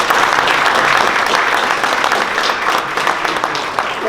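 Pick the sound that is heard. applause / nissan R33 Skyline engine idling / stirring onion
applause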